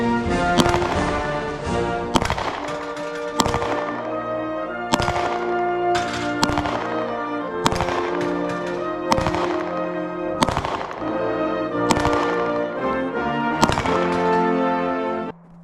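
A Glock 23 Gen 3 .40 S&W pistol fires at targets outdoors: about ten loud, sharp shots spaced evenly around a second and a half apart, each one followed by a ringing, metallic tone.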